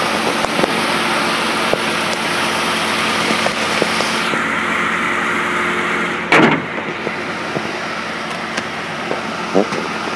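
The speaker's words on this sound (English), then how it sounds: "This is a Ford Crown Victoria. This vehicle does start." A 2004 Ford Crown Victoria Police Interceptor engine runs at a steady idle, a continuous low hum with faint air-conditioning hiss, broken by one brief louder knock or door-like thud midway.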